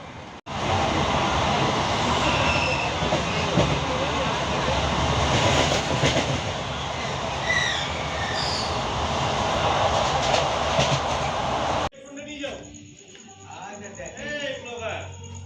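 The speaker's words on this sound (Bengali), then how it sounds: "এখন আমরা ট্রেনে চেপে পড়েছি। এবারে যাচ্ছি ট্রেনে করে।" The interior of a moving passenger train gives a loud, sustained rumbling roar for most of the clip, which drops abruptly to quieter ambient noise near the end.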